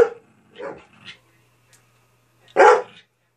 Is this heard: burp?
no